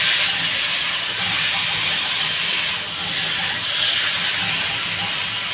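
Water poured into a hot, spiced base of cumin, coriander and chili powder for a katla fish curry with potato and tomato hisses loudly and steadily, a continuous close sizzle that does not let up.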